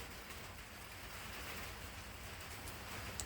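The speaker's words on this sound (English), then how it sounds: "listening to it rain and staying out here in the cold" Steady rain falls outside a workshop in the cold, a soft, even hiss of drops that stays faint and constant throughout, with no voices over it.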